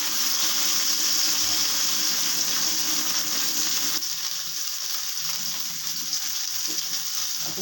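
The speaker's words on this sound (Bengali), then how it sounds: "এবার ঢ্যাঁড়সগুলো দিয়ে দিলাম" Okra sizzles and spits steadily in hot oil in a pan, a close, continuous frying hiss that eases slightly partway through, with no one talking.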